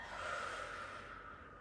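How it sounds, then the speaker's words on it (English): A slow, steady breath exhaled through the mouth during a posture flow exercise class: a soft, breathy hiss lasting under two seconds, gently fading, close and quiet with no talking. "Exhaling out the mouth."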